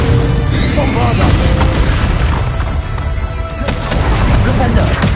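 Magical Bombarda explosions boom in Hogwarts Legacy amid a dense, loud duel soundscape, with blasts and crashes layered over continuous combat noise and voices.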